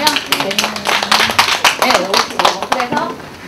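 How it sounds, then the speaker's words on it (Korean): An audience at a Korean youth local-history club session claps in a lively burst of applause lasting several seconds, with a voice briefly heard among the clapping. "박수 한번."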